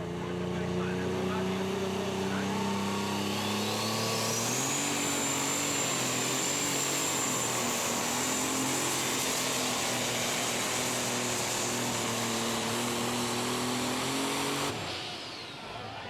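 An unlimited super stock pulling tractor's engine roars at full throttle for many seconds at a truck and tractor pull, its pitch climbing and holding steady before it cuts off abruptly near the end.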